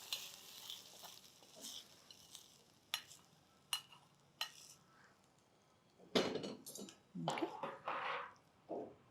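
A spoon stirs hot tempering into yogurt, giving faint wet scrapes and soft clinks against the bowl that turn busier toward the end, all fairly quiet and close with no talking.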